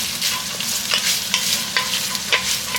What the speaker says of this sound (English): Brown these sausages, smoked sausage, get a nice little caramelization on them.